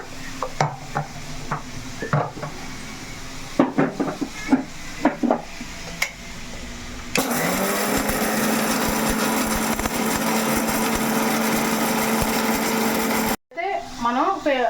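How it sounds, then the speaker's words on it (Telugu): A kitchen mixer grinder grinds masala into powder, starting after some scattered clatter and handling noises with a loud, steady whirring roar that runs for several seconds, then stops abruptly before a short burst of rattling. "ఈలోపు మనం మిక్సీ పట్టేసుకుందాం మసాలా"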